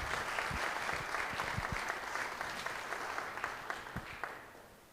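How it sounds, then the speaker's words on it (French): Audience applause at a public talk on fighting the Asian hornet in Chanac, France, a dense steady clatter of clapping that carries on for several seconds and gradually thins out toward the end. "on peut les applaudir"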